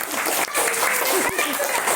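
An audience at a school event for first-grade students claps loudly, a thick steady burst of many hands right after a child's song, with a brief dip partway through.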